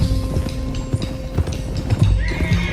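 Horses in the Red Dead Redemption 2 video game gallop with rapid clip-clopping hoofbeats while whinnies and neighs cut in, close and loud, amid rumbling game sound.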